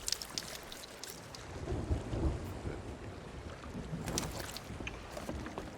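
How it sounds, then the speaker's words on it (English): A storm at sea in the Sea of Thieves video game, with rolling thunder rumbles, rain and surging water against a boat, plus a few brief sharp crackles. "it looks like we're going to hit the storm"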